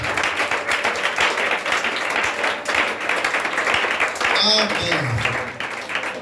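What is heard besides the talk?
congregation applauding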